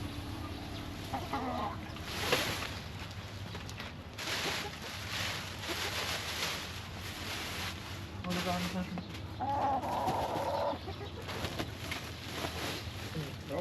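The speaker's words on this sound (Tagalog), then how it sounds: "Pumasok na naman yung manok natin." A chicken clucks and calls in short bursts nearby in a rural outdoor setting, with other birds and background noise around it.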